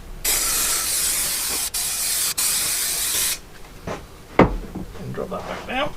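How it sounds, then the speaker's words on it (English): Spray adhesive hisses from an aerosol can during a camper van bench seat upholstery build, in one long loud burst broken by two tiny gaps. Quieter handling clatter and knocks follow. "put a bit of spray glue down"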